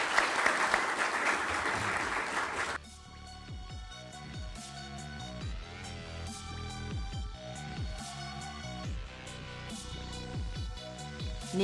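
An audience applauds for Chairman Chu in a short burst of dense clapping that lasts under three seconds before music takes over.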